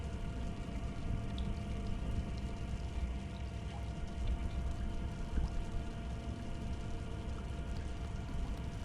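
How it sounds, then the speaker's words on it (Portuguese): Steady rain pours continuously in the Little Nightmares II video game, a dense even hiss of falling water with faint low rumbles underneath and no pauses. "O barulho da chuva."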